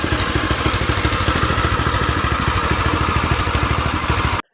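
New Harbor Freight go-kart engine running steadily at idle, a close, loud, even chugging putter with clattery mechanical detail, then cutting off abruptly at the end.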